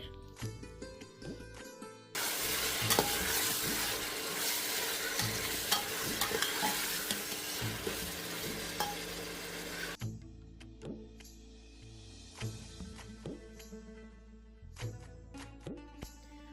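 Mutton frying and being stirred in a pot for Kashmiri mutton soup: a loud, dense sizzle in the middle stretch, with softer scraping and clinking of a spoon before and after, close by and without voices.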